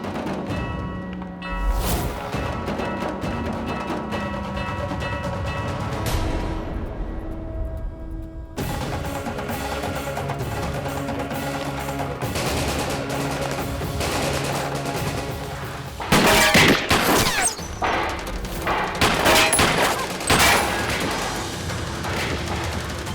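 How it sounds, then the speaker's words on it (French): Dense gunfire from a TV drama bank standoff, sustained loud shooting and booming blasts mixed with a music score, with bursts growing heavier toward the end and no talk over it. "Quiconque débarque ici, tirez à vue."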